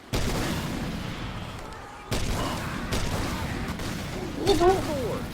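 Gunfire in Left 4 Dead 2: heavy booming shots in three separate bursts, each a sharp onset followed by rumbling decay, with a warbling whine near the end.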